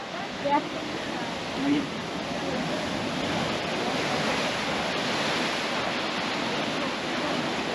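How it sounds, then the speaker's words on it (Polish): Continuous hiss of waves breaking and washing in a cove on Nusa Penida, at a distance, steady and moderately loud, with a couple of brief voice fragments early on. "No ładnie to wygląda, jak się te fale tutaj rozbijają."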